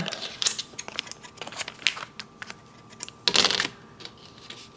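Scissors snip and crinkle a plastic blind bag holding a Transformers Tiny Turbo Changers toy, sharp close crackling bursts and rustles, one louder crunch near the end, with no talk.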